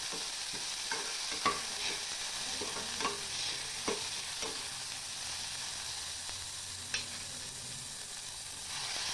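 Steady sizzling of ground masala and chopped tomatoes frying in a pan for yam masala fry, with occasional sharp scrapes and clicks of a spoon stirring, no voices.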